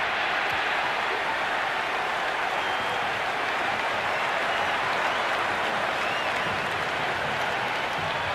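A stadium crowd applauds and roars without pause in the Cricket 26 video game during a Pakistan vs Australia one-day international, a dense and fairly loud wall of clapping and cheering.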